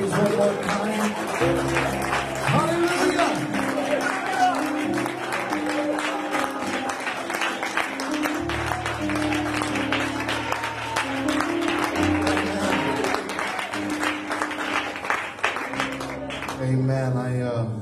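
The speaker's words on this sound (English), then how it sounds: "can you just give him a hand clap of praise one more time?" Church congregation clapping in praise, a sustained wash of applause running under music and voices throughout.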